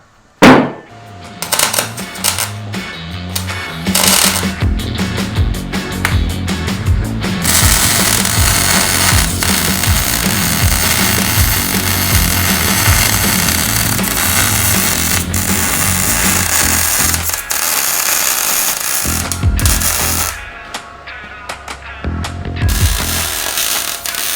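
A welding bead is run on a Jeep TJ front track bar bracket for a high-steer setup, giving a loud, continuous crackling buzz that runs about twelve seconds between shorter bursts and clanks, with no voices.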